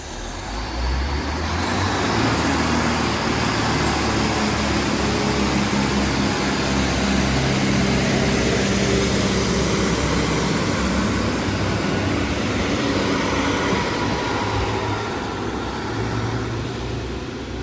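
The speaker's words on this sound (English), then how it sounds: "Now that is the sound of a train I want to hear." A pair of coupled Class 156 diesel multiple units pulls out of Widnes station toward Liverpool Lime Street, with a loud, sustained engine roar and rumble that builds and holds close by for the whole stretch.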